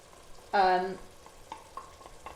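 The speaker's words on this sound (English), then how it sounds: "So chuck that all in and give that a good stir" Gnocchi with melting parmesan and mozzarella stirred in a pan, opening with one sharp, loud scrape followed by softer, fainter clinks and scrapes.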